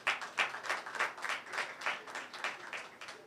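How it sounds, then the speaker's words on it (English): An audience at a student entrepreneurship hub launch applauds a choir, with fairly faint clapping that swells and dips in uneven bursts and no one speaking over it. "please give another round of applause to the CM choir?"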